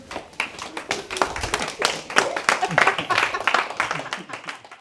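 A church congregation claps to acclaim the Lord at a prophetic sport worship gathering, with brisk, irregular clapping from many hands building into lively applause, with voices mixed in.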